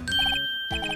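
A telephone rings in the Phoenix Wright: Ace Attorney video game during a call to the police: two short, bright electronic trills with a brief gap between them, heard alone.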